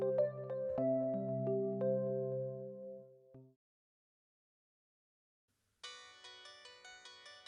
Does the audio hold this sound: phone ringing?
yes